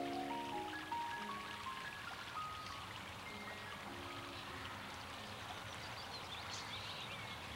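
A river flows steadily in a quiet outdoor spot, its soft continuous wash and trickle sounding fairly near and even throughout, with faint tonal sounds drifting over it early on.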